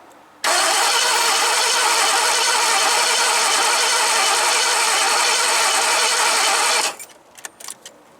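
Starter motor of a 1986 Ford E150 van with no spark cranks steadily for about six seconds, a loud, even whirring grind that never catches, then cuts off into quiet clicks and small knocks.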